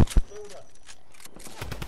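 A short, loud burst of SMG fire rips out in Fortnite, followed by quieter game noise and then another rough volley at the end.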